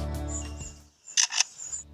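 A lyrebird's mechanical clicks mimic a camera shutter, two quick bursts close together after a low droning tone fades out.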